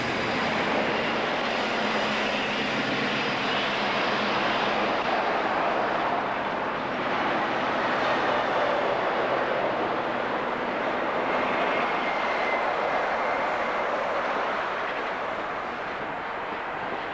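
A Class 56 diesel locomotive hauls a loaded coal train out of the Port of Immingham dock complex, giving a steady, broad engine drone with rumbling wagons that holds at constant loudness for the whole stretch.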